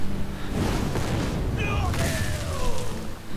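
A Fireball spell cast in the Hearthstone card game, heard as a fiery whooshing burst with booming impact and sweeping synthetic tones, fairly loud over a steady layer of game sound.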